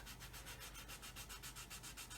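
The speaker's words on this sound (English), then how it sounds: "But you can see there I'm sanding that" Fine 600-grit sanding stick worked wet over a plastic scale model part, giving a steady rhythmic rubbing rasp, back-and-forth strokes repeating evenly and close.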